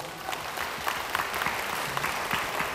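Applause from a crowd at a Keelung mayoral campaign event, where a sports support association for Tsai Shih-ying is being launched. Steady, moderately loud clapping fills the whole span, with scattered sharper claps standing out from the wash.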